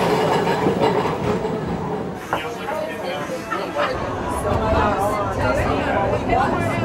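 A tram ride, with a steady rumble of wheels on rails, occasional clicks and clatter, and people chattering nearby throughout the ride.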